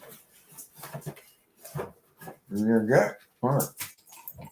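A pit bull whimpers and whines in short, close bursts, some drawn-out and pitched, between and under a person talking.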